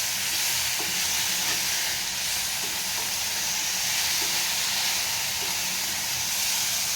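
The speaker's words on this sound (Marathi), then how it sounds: "सर्व टाकून झाल्यानंतर हलक्या हाताने हे सगळं छान मसाल्यामध्ये मिक्स करून घ्यायचं आहे" Creek boi fish being gently folded into a spicy masala with raw mango and two green chillies, a steady close sizzle and hiss running throughout with faint soft scrapes of mixing, no voices.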